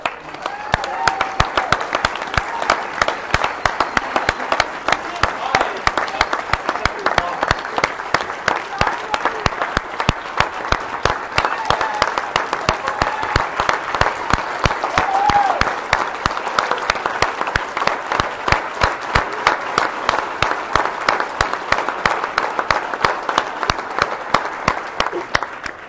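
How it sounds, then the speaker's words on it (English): A large audience at a NASA GRAIL tweetup bursts into a huge round of applause, dense sustained clapping continuing for over twenty seconds with slight cheering swells, loud and close. "someone who definitely deserves a huge round of applause"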